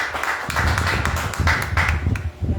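A church congregation at a Portuguese-language service claps together in a burst of irregular, overlapping applause that carries on for a few seconds.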